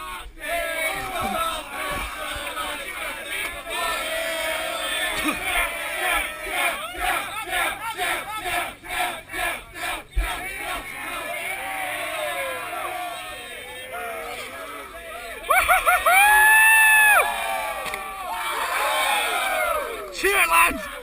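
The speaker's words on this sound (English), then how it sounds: "Cheer it, lads!" A group of lads cheer and yell together in bursts of rowdy shouts and whoops, with a sharp whistle-like cry partway through, loud and close.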